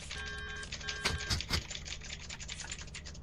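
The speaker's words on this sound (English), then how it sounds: "Yeah, I'm hearing that keyboard." A computer keyboard is typed on in quick, irregular keystrokes and clicks, close and moderately loud, with a faint tonal beep pattern in the background.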